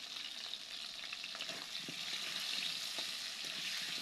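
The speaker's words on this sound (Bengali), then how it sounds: "নেড়ে চেড়ে লাল করে আলুগুলো ভেজে নেব একটু।" Cut potatoes, dusted with turmeric and a little salt, fry in hot mustard oil with a steady low sizzle, while a spoon stirs them now and then with soft scraping sounds.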